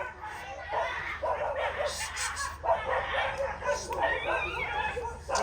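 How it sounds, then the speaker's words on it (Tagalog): Dogs at an outdoor evangelical gathering on Cagbalete Island bark and yelp in short, repeated, fairly faint bursts, mixed with people talking nearby. "Huwag niyo na lokohin yung aso diyan. Yaan niyo na silang mag-ingay dyan."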